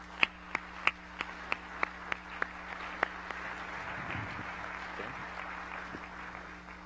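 A conference audience applauds a panel of executives, with a string of distinct, evenly spaced claps at first that swell into steady, sustained applause filling the room at moderate volume.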